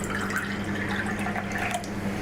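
Distilled water poured into a cup, a steady close trickle and splash lasting a couple of seconds, alone without talk.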